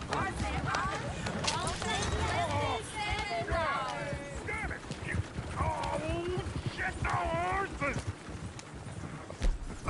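Horse hooves clip-clopping in the Red Dead Redemption 2 video game, a steady soft rhythm of hoof steps running under frequent talking voices, with the occasional whinny.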